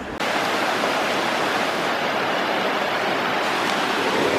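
The Yuba River at a confluence runs high with lots of water, a loud, steady rushing roar that fills the whole clip.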